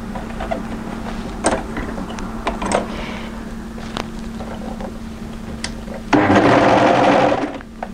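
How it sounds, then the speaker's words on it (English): An overlocker fitted with a cuff attachment stitches a sweater cuff, a steady mechanical whir swelling into a loud, fast run near the end after quieter handling noises and brief clicks. "because I have this lovely attachment on my overlocker, which makes cuffs very easy to sew"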